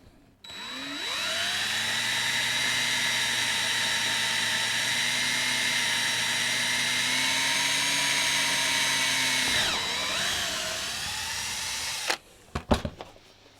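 A power drill with a wood drill bit whirs loudly and steadily for about eleven seconds, its pitch dipping briefly as it bites, then winds down into a few clattering knocks.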